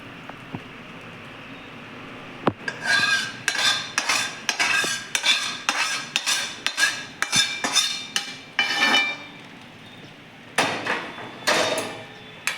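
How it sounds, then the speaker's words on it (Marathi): A spoon scrapes and clinks repeatedly against a pan while jaggery syrup is mixed into the ingredients for nutritious energy laddoos, with steady rhythmic strokes close by and a sharp knock near the start. "सुरुवातीला सर्व साहित्य व्यवस्थित आपण गुळाच्या पाकामध्ये व्यवस्थित मिक्स करून घेऊयात"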